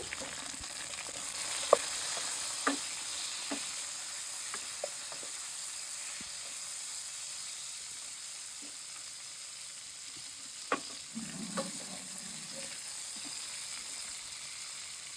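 Chicken fries in a pan with a soft, steady sizzle and hiss, punctuated by sparse clicks and scrapes of stirring, fairly quiet and continuous over a long stretch.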